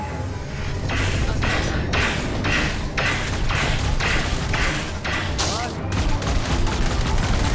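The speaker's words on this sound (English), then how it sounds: "You gotta love the old rocket launcher." Rocket launcher fire in the space game Elite Dangerous: a steady run of loud, repeated explosive thumps and bursts, each blast hitting hard across the whole clip with a dense, rumbling combat background.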